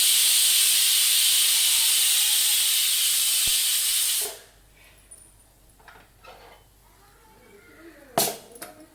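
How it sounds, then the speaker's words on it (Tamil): A pressure cooker cooking home-style vegetable soup releases a loud, continuous whistle of steam for about four seconds, then cuts off abruptly, leaving quiet kitchen sounds and a couple of short, sharp bursts. "இது ஒரு எட்டு விசில் வர வரைக்கும் நம்ம வெயிட் பண்ணுவோம்"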